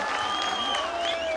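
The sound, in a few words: audience applause at a college program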